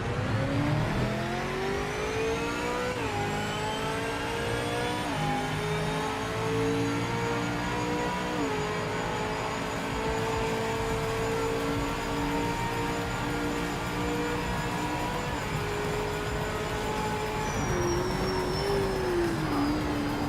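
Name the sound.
race car downshifting and braking, from a video game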